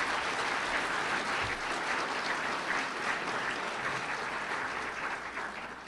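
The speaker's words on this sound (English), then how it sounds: "Let's give them a round of applause" A round of applause fills a hall at an annual telecommunicators' banquet, even dense clapping from a large crowd, loud and steady throughout and tapering slightly at the end, with no talk over it.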